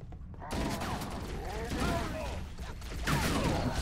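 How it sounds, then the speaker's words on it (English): Alien Elite enemies in the video game Halo: Combat Evolved, aboard the Pillar of Autumn, with chattering calls and creaky vocal sweeps over dense combat noise and gunfire, starting suddenly after a quiet half second and holding steady, swelling near the end. "And those elite sounds, too."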